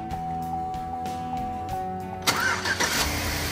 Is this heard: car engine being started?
yes